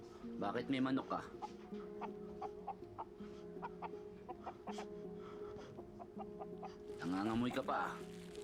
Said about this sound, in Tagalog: Bakit may manok ka?